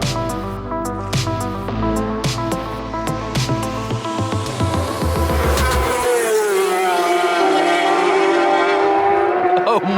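Isle of Man TT superbikes warming up, engines revving loudly and continuously nearby, with a sustained rising and falling engine roar throughout and no speech.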